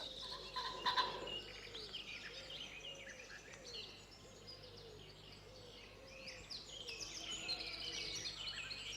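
A cock pheasant calls in bursts over an outdoor bird chorus, its harsh cries rising near the start and again toward the end, with steady ambient birdsong and low background hum throughout.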